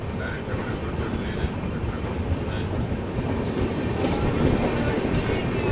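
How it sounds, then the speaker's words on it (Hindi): Humsafar passenger train passing near Sevagram station, a continuous close rumble of wagons with rhythmic clickety-clack, growing slightly louder toward the end. "कोई तो हमसफ़र ट्रेन लग रही है"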